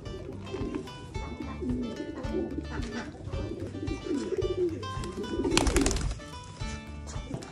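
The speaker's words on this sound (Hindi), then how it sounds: "आवाज़ सुन रहे हो कबूतरों की?" A flock of fancy and mixed pigeons coos in soft, repeated throaty phrases nearby, with occasional wing flutters and a brief burst of flapping.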